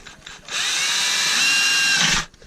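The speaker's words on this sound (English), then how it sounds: "So you take a drill" A power drill whirs steadily for under two seconds as it drills out a key stuck in a Chevy Trailblazer ignition, starting and stopping abruptly, with faint clicks before and after.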